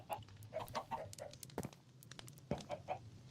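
Chickens in the Minecraft video game cluck in short repeated bursts with irregular spacing, moderately loud and with no speech over them.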